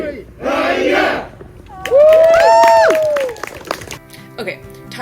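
A karate support team at a black belt test bursts into loud shouting, then a sustained rising and falling group cheer with whoops, fading into scattered voices, close and energetic.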